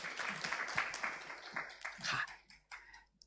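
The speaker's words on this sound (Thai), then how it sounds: "ขอเสียงปรบมือต้อนรับน้องเพชรด้วยค่ะ" Audience clapping welcomes a young speaker, Petch, onto the stage at a Thai event on children's right to peaceful protest; moderate applause rises and falls in uneven bursts over a few seconds, then thins out toward the end.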